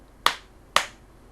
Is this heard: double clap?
yes